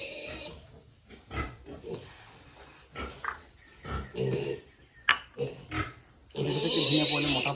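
Piglets squeal in loud, ragged bursts while being dosed with deworming medicine, the cries close and repeated throughout and building to a sustained shriek at the end, with people talking in between.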